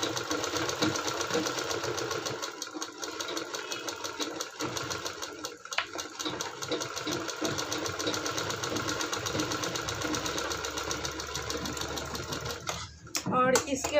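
A sewing machine stitches along a hook strip, running steadily and close for most of the stretch with a continuous rapid mechanical whir, then stopping briefly near the end, with talk present alongside.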